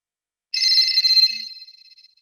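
A telephone rings for an incoming caller during a live call-in broadcast: one bright, trilling ring starts abruptly after a brief silence, holds steady, then fades out, close and clear with no voices.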